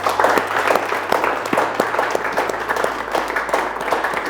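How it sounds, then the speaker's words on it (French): Company staff at a corporate partners' event applaud together, a sustained crowd clapping with sharp individual claps standing out from the wash, loud and continuous throughout. "Et je demande à tout le personnel de Nestlé d'applaudir pour ces talents burkinabés."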